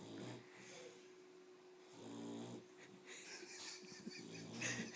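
A person snores in slow repeated cycles, with several raspy, rumbling inhalations separated by quieter breaths, faint and close.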